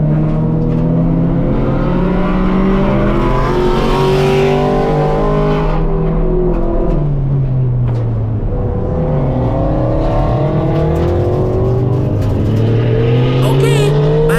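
A K24-swapped Honda EG on a track day, its engine droning and rising through the revs as it pulls away, with a few other cars audible and voices talking over the steady engine noise.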